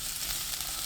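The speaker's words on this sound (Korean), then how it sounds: "양파 넣고 볶아주세요." Vienna sausages and onion stir-fried over high heat in a pan with oil and minced garlic, giving a steady, close hiss of sizzling throughout with no talking.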